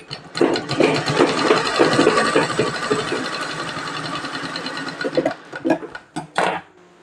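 Sewing machine stitching a child's frock: a close, loud rapid needle clatter running steadily for about five seconds, then slowing into a few short bursts and stops.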